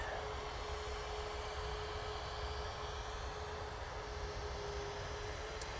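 A KLM Boeing 737 arriving at Manchester from Amsterdam Schiphol, heard as a continuous distant jet roar with a faint steady whine on top, unbroken and free of speech.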